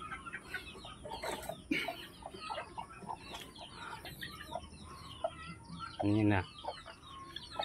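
A brooding hen settling onto her eggs in a backyard coop gives soft, scattered clucks amid other fowl noise, with a louder burst near the end and a person speaking briefly.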